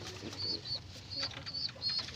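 A young pet pigeon with a cut-off foot chirps in short, faint, high repeated calls, several spaced peeps over quiet room noise.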